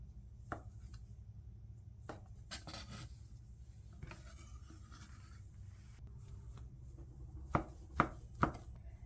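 A knife cuts food into thick slices on a cutting board while tteokguk rice cake soup is being prepared, quiet steady chopping with a few sharper, louder knocks near the end.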